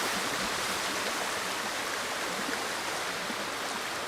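Waterfall in the video game Ghost of Tsushima, a steady, dense rush of falling water heard alone with no break.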